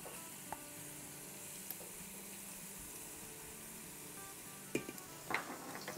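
Garlic and ginger paste sizzles in hot oil in a pan for a soya chunk curry, a steady quiet frying hiss with a few light clinks and stirring scrapes near the end.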